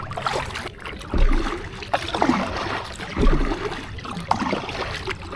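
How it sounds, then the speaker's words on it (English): Strokes of a budget full-carbon Greenland paddle pulling through water beside a kayak, giving repeated splashing swishes about every second over steady trickling and lapping water, close and fairly loud. "if you try and paddle this like a Euro paddle, the blade will flutter"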